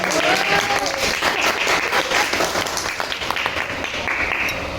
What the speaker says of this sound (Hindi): जो जोरदार धुआंधार तालियां